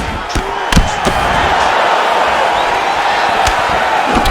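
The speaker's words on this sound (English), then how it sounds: "You hear this crowd just eating out of his hand, oohing and on every time he advances." An arena crowd roars in UFC 4 during a Strickland vs. Adesanya bout, a loud continuous wash of cheering and oohing with a few sharp impact thuds over it.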